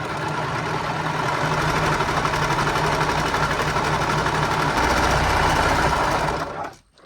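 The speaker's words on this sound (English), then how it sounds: "now we're going to go ahead and serge the top" A serger runs continuously at high speed, overlocking the top edge of a fabric romper, with a loud, even mechanical whir that holds steady for several seconds before cutting off abruptly at the end.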